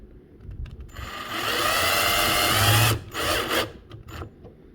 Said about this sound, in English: I'll need to do the same thing as far as placing the bracket in and then putting the screws in